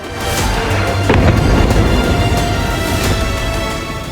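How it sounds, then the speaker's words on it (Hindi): Heavy explosions from an Israeli fighter jet airstrike on a tower in Khan Younis, southern Gaza, heard as a continuous loud rumbling roar with one sharper blast partway through, no voices. "दक्षिण गाजा में आईडीएफ के फाइटर प्लेन ने आसमान से बारूद बरसाया, एक टावर को नष्ट कर दिया।"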